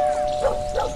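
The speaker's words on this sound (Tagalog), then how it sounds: "Ah, may aso pala dito." A dog barks twice at a moderate distance, two short yips about a third of a second apart over a steady background hum.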